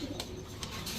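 Racing pigeons, young flying birds from a club loft, give soft low cooing calls close by in one brief burst with no talk.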